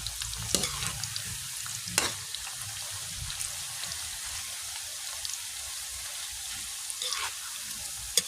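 Banana chips fry in a pan of hot oil with a steady, dense sizzle and crackle throughout, broken by a few sharper pops and stirring clinks at close range.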